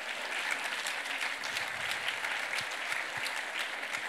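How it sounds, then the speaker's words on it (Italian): An audience at a talk on martial arts metaphors applauds, a dense, steady wash of clapping from many hands that continues throughout. "Facciamo un applauso."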